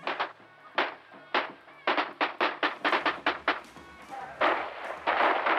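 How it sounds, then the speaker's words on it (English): Repeated gunshots fired into the air at a wedding celebration in a remote region of southeastern Turkey, a string of sharp separate cracks that speed up into a fast irregular volley and then a denser burst, fairly close and loud. "the random firing of guns into the air during wedding ceremonies is a time-honored tradition"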